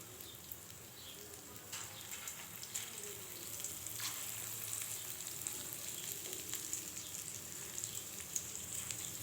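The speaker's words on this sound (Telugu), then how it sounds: "ఇప్పుడు ఆయిల్ వేడైందండి. ఇందులో ఈ పిండిని ఇలా చేతి పట్టి చిన్న చిన్న బజ్జీల్లా" Small hand-dropped batter fritters fry in hot oil with a faint, continuous bubbling sizzle and scattered soft pops, and no one speaks.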